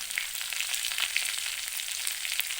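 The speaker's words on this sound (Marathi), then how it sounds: "आता बघा आपला कांदा चांगला भाजत आलेला आहे" Onion fries in oil in a pan on a village-style gas stove, making a dense, continuous crackle with quick, faint pops scattered evenly through it and no voices.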